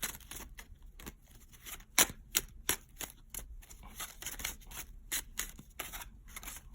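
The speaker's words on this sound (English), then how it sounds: "I know I'm shuffling" Rapid, irregular papery riffles and soft slaps of tarot cards being shuffled close by, with no talking.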